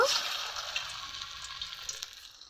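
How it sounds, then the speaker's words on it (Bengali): Chira (flattened rice) pakoras sizzling in hot oil, a steady close hiss of frying with small crackles and pops throughout, no talk. "তেল গরম হয়ে গেছে, এখন পকোড়াগুলো আমি ভেজে নিব।"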